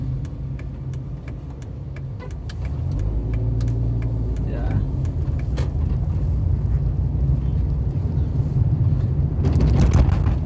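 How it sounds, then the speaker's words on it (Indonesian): A Toyota Etios Valco rolls along on new Kitty R15 185/65 tires, steady road and engine noise with a low hum that swells slightly, occasional faint clicks, and someone talking over it. "ini rasanya berkendara dengan ban baru merek Kitty ya, Etios Falco menggunakan ban Kitty"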